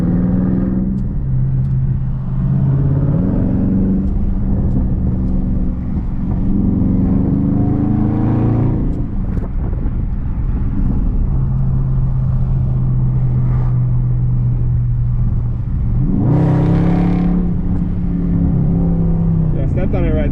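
A 2019 Scat Pack with a mid muffler delete, set to sport mode, revs hard through its exhaust. The loud, raw drone swells and dips across several throttle blips, ending in a sharp, climbing rev.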